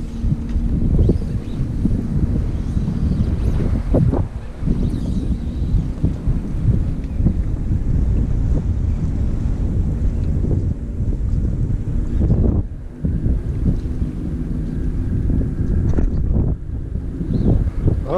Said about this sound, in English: over here I've got the wind on my back